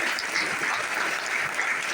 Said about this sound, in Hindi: एक बार आप सभी के लिए दिल से जोरदार ताली